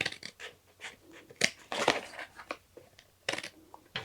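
Scissors snip through a fabric piece for an autumn wreath, making close, crisp crunching cuts in an irregular series with short pauses between them.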